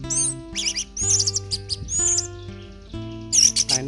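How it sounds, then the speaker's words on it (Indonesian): An orange-headed thrush sings nearby in clear bursts of high, whistled chirps and warbling phrases, separated by short pauses, loud and alone. "Yang penting burung itu dalam keadaan tenang, maka akan segera meriwit ataupun berbunyi."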